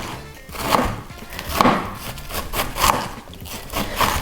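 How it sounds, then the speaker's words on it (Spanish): Knife slicing through a whole cabbage on a cutting board for a pressed salad, a run of steady, close rasping cuts repeating roughly every second with no talking. "Así vamos a ir cortando la col entera."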